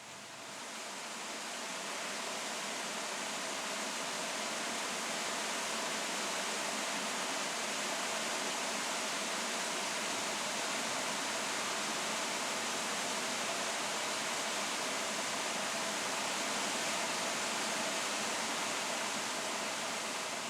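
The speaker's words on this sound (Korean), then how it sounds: "다시 경쾌하게 흐르는 계곡의 물소리에 맞추어 산은 벌써 봄을 맞을 준비를 한다" A constant rushing of a lively mountain valley stream in early spring at Juwangsan, broad and steady throughout with no voices.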